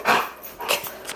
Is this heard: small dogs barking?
yes